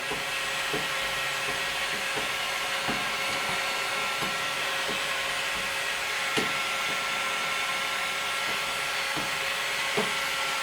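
A heat gun blows steadily while softening a heat and sound reduction mat for a Classic Mini, a constant close whooshing drone with faint clicks and taps scattered through it, and no talking.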